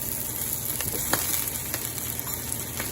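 Brussels sprouts sizzle in a hot pan, a dense, steady crackle and hiss with a few sharper pops and brief scraping stirs, close and fairly loud.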